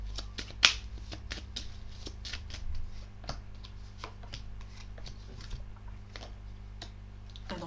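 Tarot cards being shuffled for a reading: crisp, rapid riffling and snapping taps repeated in quick bursts close up, with a low steady hum underneath and no talking.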